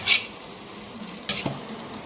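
Onion frying in a pan gives a soft, steady sizzle throughout, with a few brief louder crackles and stirring clinks near the end.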